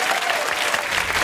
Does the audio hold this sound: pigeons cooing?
no